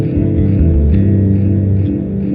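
A bass synth line runs through an Erica Synths Echolocator delay with the reverb turned off, giving loud sustained low notes with echoing repeats and no talk.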